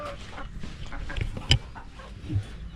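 Chickens, kept as backyard egg-layers, cluck softly in a few scattered, nearby calls over faint background noise.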